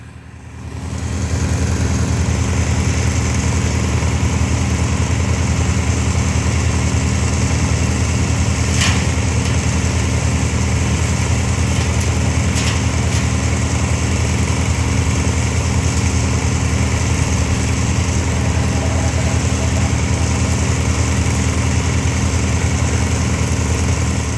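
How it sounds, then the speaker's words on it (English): A wood chipper engine runs steadily during a major tree removal job, a loud, continuous droning hum that holds without a break for the whole stretch. "They've got those limbs moved over to the chipper."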